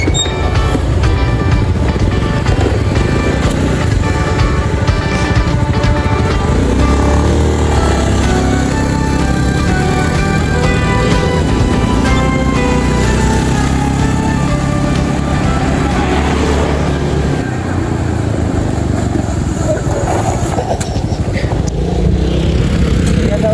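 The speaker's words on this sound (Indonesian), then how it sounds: "Pakai motor gua aja" Loud, steady motorcycle engine roar while riding, the rumble continuing without a break and swelling slightly near the end.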